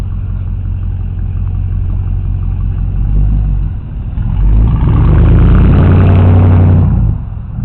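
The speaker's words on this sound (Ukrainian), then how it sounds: "повертається машинка, гуде" A car rolls back along a residential street in San Jose, California, its engine humming steadily, then swelling into a loud, close rumble as it approaches and passes before easing off.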